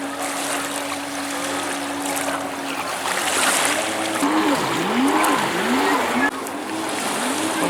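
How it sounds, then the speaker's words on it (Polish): Motorboats on a lake in Augustów buzz with a rising and falling engine whine, passing at moderate distance over a steady outdoor wash of water and wind. "motorówkami pływają"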